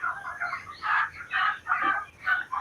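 Hens in a poultry farm with a capacity of 5,000 birds cluck and squawk in repeated overlapping bursts, fairly close and busy, with no talk.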